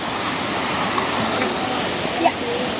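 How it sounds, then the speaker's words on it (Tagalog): A waterfall, the first falls reached along a rugged trail, sounds as a steady, full rushing roar of falling water, close and unbroken throughout. "Ayun, malapit na po kami dun sa unang falls. Ito na, yung isang falls."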